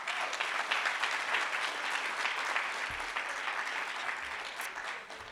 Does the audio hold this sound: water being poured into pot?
no